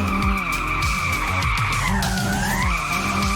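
Tires squeal continuously as a car drifts in the First Racer demo, a loud sustained skid with a wavering pitch over the low rumble of the engine.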